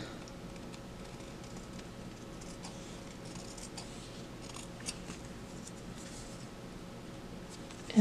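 Scissors snip steadily through material for a Blythe doll costume, soft close cutting sounds repeating over a faint background hum with a small bump at the end.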